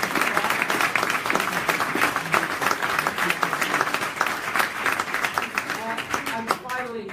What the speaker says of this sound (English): can we give a big round of applause to all the participants?